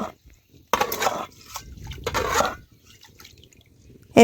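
Rice and kalai lentils tipped into a pot of hot water while making a vegetarian cabbage khichuri: two close, splashy pouring rushes, each lasting about a second, with quiet gaps before and after.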